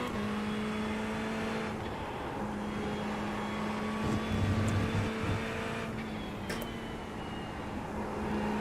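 Racing car engine in a sim racing game on the Watkins Glen circuit, a steady droning hum held at a fairly constant pitch throughout, with a few brief louder shifts and no talking.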